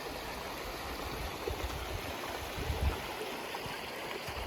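River water flowing steadily near a hiking trail in Molino Basin, a soft continuous rushing hiss with faint gurgles, fairly quiet and even throughout.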